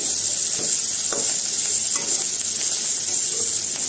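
Bitter gourd slices frying in hot oil with green chilies, a steady dense sizzle and crackle throughout, with a few soft stirring scrapes, close and continuous with no talking.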